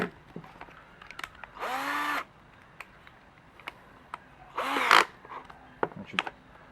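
A cheap single-speed no-name cordless screwdriver spins a drill bit in two short, close whirring bursts that rise in pitch, separated by quiet gaps with faint clicks and handling noise.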